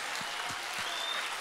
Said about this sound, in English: Lift both hands and begin to clap your hands above your head